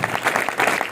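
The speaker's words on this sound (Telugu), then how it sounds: "గట్టిగా చప్పట్లు కొట్టి ప్రభువుని" A church congregation at a Horeb Ministries service claps loudly in a brief, dense burst of applause.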